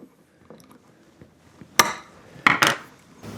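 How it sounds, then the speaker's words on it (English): A small screwdriver prying back a metal lift strut clip: scattered faint ticks and scrapes, then a few sharp, close metallic snaps and clacks in quick succession, heard alone without talk. "take a small screwdriver or pick and pry this back"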